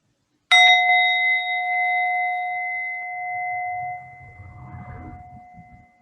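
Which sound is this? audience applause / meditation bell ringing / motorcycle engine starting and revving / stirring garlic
meditation bell ringing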